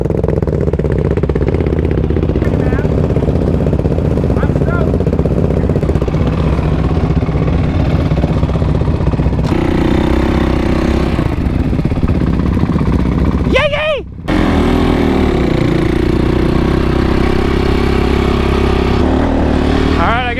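Motorcycles idling and running together outdoors before a ride toward the border wall near Mexico, a steady engine drone throughout with a brief throttle blip partway, under continuous voices and background clatter.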